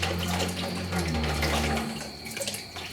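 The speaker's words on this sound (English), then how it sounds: "take your cup and run water down" Running water from a tap pours steadily into a sink as a spray gun cup is rinsed clean after spraying Lizard Skin insulation, a continuous broadband splash with a low hum that eases off toward the end.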